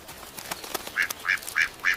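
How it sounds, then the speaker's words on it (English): A duck quacks four times in a steady series near the end, each call short and fairly loud, after a quieter stretch of faint background noise. "This is a duck."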